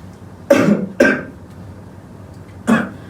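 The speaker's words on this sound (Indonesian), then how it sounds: "saya sedikit batuk karena agak kurang enak badan" Three dry coughs, two in quick succession and then one more after a pause, close to the microphone against a quiet background.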